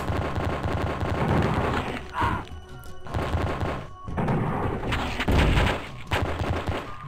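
Rapid bursts of gunfire fill a shootout against an enemy in the video game Pathways Into Darkness, dense repeated shots with brief lulls, loud and close.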